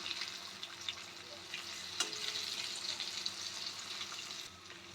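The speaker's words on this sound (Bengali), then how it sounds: "বেগুনগুলো সব আমি এরকম লাল লাল করে ভেজে নেব।" Eggplant slices shallow-frying in hot oil give a steady, fairly quiet sizzle with a faint crackle throughout and no talking.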